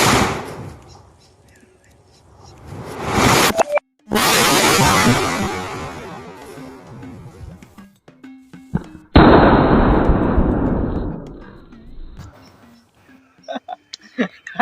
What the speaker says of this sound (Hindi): और ये सबसे पहला धमाका हुआ अंडरग्राउंड